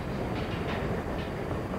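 Pennsylvania GP9 diesel locomotive rolling around Horseshoe Curve near Altoona, PA, a steady low rumble with faint rail clatter, moderately distant and continuous with no talk.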